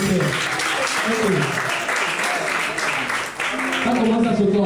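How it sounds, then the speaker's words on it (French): An audience claps for contestants during a game show, steady dense applause throughout, loud and close, with a host's voice and crowd murmur mixed in. "Est-ce qu'on peut les applaudir s'il vous plaît?"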